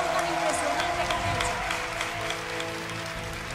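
Audience applauding singers at a live show, a dense wash of clapping and crowd noise heard steadily from start to finish at moderate level.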